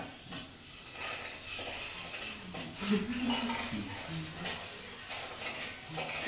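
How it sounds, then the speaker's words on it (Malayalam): Urad dal roasting in a pan for Kerala ari murukku, stirred with a utensil that scrapes and clinks against the metal in irregular strokes over a soft, faint background hiss. "ഉഴുന്ന് വറുത്തെടുക്കുക നാല് ഗ്ലാസ് അരിക്ക് ഒരു ഗ്ലാസ് ഉഴുന്ന്"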